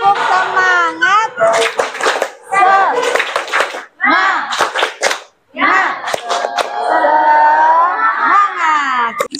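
A standing classroom of students performs a rhythmic cheer clap, sharp clustered bursts of hand claps in patterned groups alternating with children's chanted voices, close and loud.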